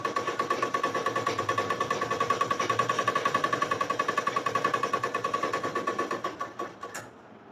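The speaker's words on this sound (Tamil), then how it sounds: "இதோட வெளிப்பக்கத்தில் வெளி ஓரமாக ஒரு தையல் போட்டுக்கலாம்" A sewing machine runs fast and steady, stitching the outer edge of an umbrella frock with a loud, close, rapid rhythmic chatter that slows and stops near the end.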